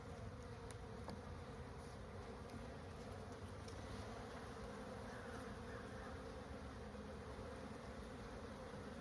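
Honeybees swarm around an opened hive during a spring inspection, a dense continuous buzz filling the air at moderate level, agitated and unbroken throughout.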